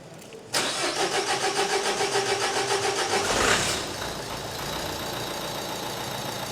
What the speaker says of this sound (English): Now, shall we get on the key and give it a big start? Now, this is probably going to start a little bit lumpy.